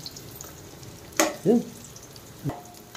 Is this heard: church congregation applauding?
no